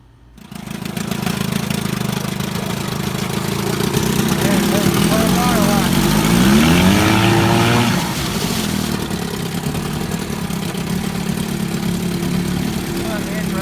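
An old outboard motor on a 1950 Lonestar fishing boat cranks and catches, then runs steadily with a loud, rough mid-pitched drone, its pitch wavering briefly before settling into an even idle.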